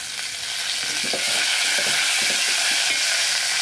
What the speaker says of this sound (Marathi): बारीक चिरलेला कांदा कांदा छान गुलाबी होत आला आहे